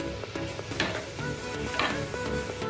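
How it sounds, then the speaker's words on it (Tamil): A pot of Kerala-style chickpea curry being stirred, spoon scrapes and clacks over a gentle simmering sizzle, close and continuous. "நல்லா கலக்கி விட்டுட்டேன்."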